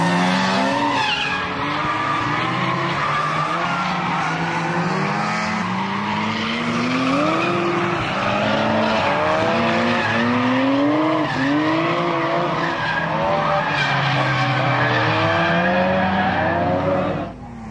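Nissan Skyline GT-R cars, one an R32 four-door with a highly modified RB20 turbo engine, twin drifting at Mobara, loud rising and falling engine notes with long tire squeals, close and continuous.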